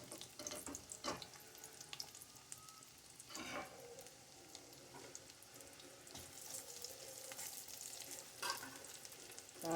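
Garlic and onion sautéing in a pan, a steady moderate sizzle with scraping stirs and occasional clinks, no talking.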